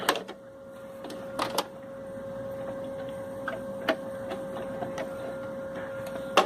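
An old Singer economy model sewing machine runs with a steady hum and light mechanical ticking, with a few sharper clacks scattered through a quiet background.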